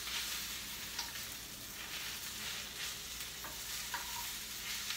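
Spinach and mushrooms sauteing in oil in a pan, a steady soft sizzle running throughout with a few light utensil clicks and stirring scrapes, no talking.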